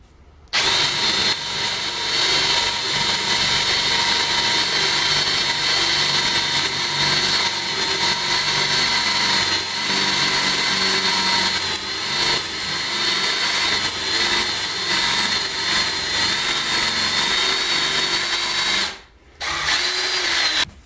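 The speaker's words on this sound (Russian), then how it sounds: "Мы с вами сделаем круглые палочки при помощи плашки." A wooden stick is turned into a threading die held in a vise by a power drill, giving a loud continuous whirring grind with brief dips, a short stop near the end, then the motor resuming.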